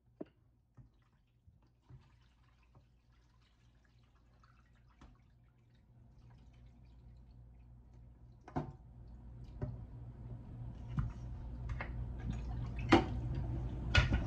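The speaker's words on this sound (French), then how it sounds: "Je n'ai pas besoin de cette eau, donc du coup je vais le jeter." Dirty water is poured away while preparing makosso bouillon: scattered faint drips and light splashes at first, then a gradually louder, fuller pouring and splashing near the end.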